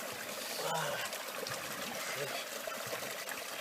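Cold spring water trickles steadily outdoors beside a garden, a continuous close babble with faint voices mixed underneath.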